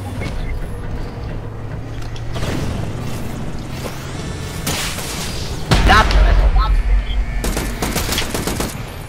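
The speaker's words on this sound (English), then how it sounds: "Grenades on their way." Grenade blasts and rapid gunfire in the multiplayer mode of the video game Batman Arkham Origins, loud bursts of shots and booms with a heavy explosion partway through, and a voice talking over the action.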